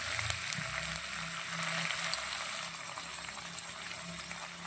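Onion and whole spices (cardamom, cloves, cinnamon, garam masala) frying in hot oil for paneer dum biryani, a steady close sizzle with faint stirring scrapes throughout.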